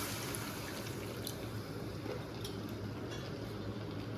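A glass of water poured into a pan of roasted-coconut chicken curry, a steady close splashing trickle that runs unbroken for a few seconds without any voices.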